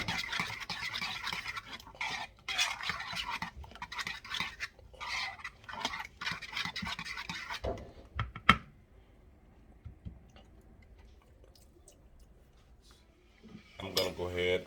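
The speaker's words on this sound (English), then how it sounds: "Give that a stir." A spoon stirs garlic powder into a dry seasoning mix in a bowl, making brisk scraping and clinking strokes. A pause follows, then a short burst of scraping at the end.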